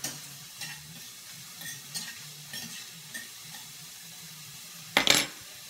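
Vegetables and scallion stir-fried in a pot, a quiet sizzle with soft periodic stirring scrapes about every half second, ending in a brief louder clatter of utensil against the pot; no talking.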